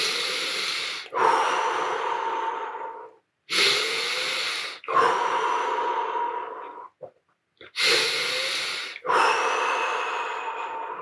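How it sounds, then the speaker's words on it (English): Deep breaths during a Tummo breathing session, loud, close inhales and long exhales alternating in a steady rhythm of about five paired cycles, with brief pauses between them. "Again, 5 deep breaths."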